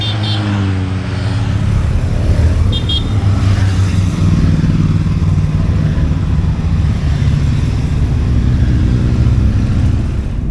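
A large group of motorcycles passes along a valley road in the Balkans on a cool morning, making a loud, steady engine rumble and drone that lasts throughout.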